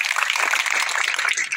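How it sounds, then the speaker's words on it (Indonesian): Dense crowd applause at a Balinese Dharma Wacana religious talk, a continuous, bright patter of many hands clapping close by, with no gaps. "Tepuk tangan untuk Buleleng"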